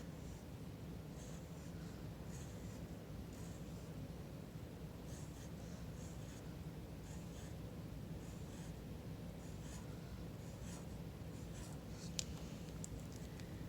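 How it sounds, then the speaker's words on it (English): An oil pastel or drawing tool scratches and scribbles on paper in soft, steady strokes while a skeleton face for Day of the Dead is drawn. The strokes are close and quiet, with no talk. "And then I draw bumps for the teeth."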